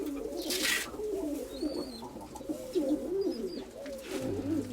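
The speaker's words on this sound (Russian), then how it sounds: "это Артемова голуби" Domestic pigeons in a small backyard loft coo in soft, rolling phrases close by, the calls repeating continuously with a few brief chirps and faint rustling around them.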